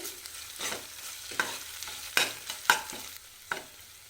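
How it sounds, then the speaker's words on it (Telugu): Ginger garlic paste fries in hot oil for an eggplant tomato curry, with a low sizzle under the scrapes and taps of a spoon stirring the pan. "ఈ జింజర్ గార్లిక్ పేస్ట్ని పచ్చివాసన పోయేంత వరకు ఆయిల్లో కాస్త ఫ్రై అవ్వనివ్వాలి"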